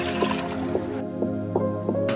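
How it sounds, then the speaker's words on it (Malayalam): Milk pours into a pressure cooker already holding washed raw rice and sugar for milk payasam, a steady liquid stream with a few soft drips and splashes, close and continuous. "പാല് ഒഴിക്കുക."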